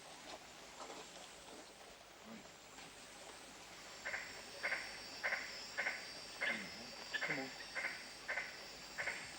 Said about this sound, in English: Latoria splendida, the magnificent tree frog.